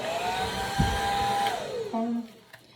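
A KISS Red Tourmaline ceramic hair dryer with a comb attachment blows a steady, close whirring airflow with a high whine that shifts pitch partway through, then drops lower and cuts off near the end.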